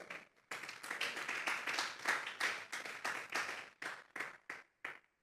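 A church congregation claps with rhythmic bursts of applause and short pauses between them, fairly quiet and without talk.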